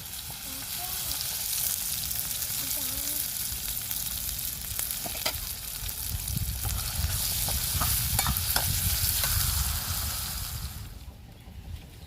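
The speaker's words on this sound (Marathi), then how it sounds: "मस्त कांदा टोमॅटो आणि मिरच्या भाजून घेणार आहे" Onion, tomato and green chillies fry in hot oil with a steady, loud sizzle and occasional stirring scrapes that continue without pause, fading slightly near the end.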